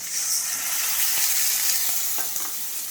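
Whole spices, including garam masala, cardamom, bay leaves and cinnamon, fry in hot oil in a home kitchen while being stirred, giving a loud, steady sizzle throughout with a few scraping clicks of the spoon.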